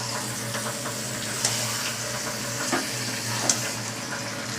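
Chicken pieces added to a pan of browned Bengali chicken curry base sizzle and fry steadily, a dense hiss with occasional soft stirring clinks, close and continuous without talk.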